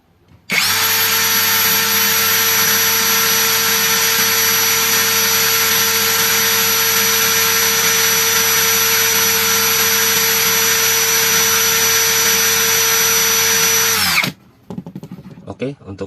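A LUCID LX60 impact drill runs steadily at high speed for about fourteen seconds, a loud, constant whine that starts abruptly and then cuts off, followed by faint handling noises.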